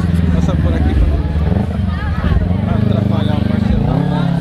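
Several motorcycles idle together at a night gathering of riders in Brazil, a dense steady low engine rumble that stays loud and close throughout, with crowd chatter mixed in.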